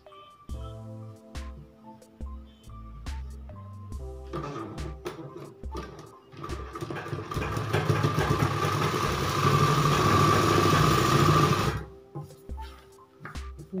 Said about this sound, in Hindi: पूरे गियर पे ऐसे ही सिलाई लगा लेंगे।